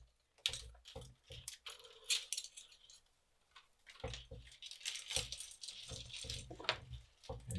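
Fine plastic clicks and light rattling of a string of LED lights being unravelled and handled, an irregular run of close, faint ticks and jangles with no talk.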